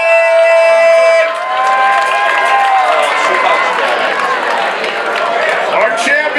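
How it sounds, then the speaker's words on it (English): A crowd at the 2015 fifth annual Oyster Challenge roars with cheering, whooping and applause for the oyster eating champion, a dense, loud wash of voices and clapping that swells and holds steady throughout. "Let's give a big round of applause"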